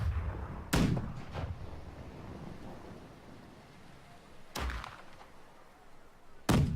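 Heavy ship cannon volleys in the naval combat game Blackwake, with three booming broadband blasts spread apart over a low rumbling sea-and-wind bed, each shot loud and sharp with a short decaying tail.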